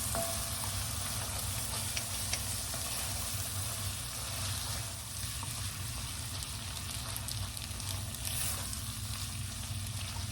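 Continuous loud sizzling of noodles stir-frying in a hot pan, with faint scraping and stirring throughout.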